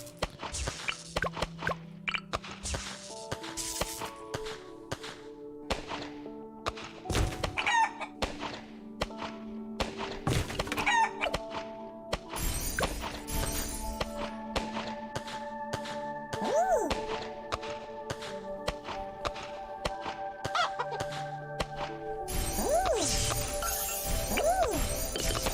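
Cartoonish chickens in Bloons TD 6 cluck and crow in scattered bursts. Sharp thunks, smashes and pops from the tower-defense action mix with them, and a looping melodic game soundtrack plays throughout.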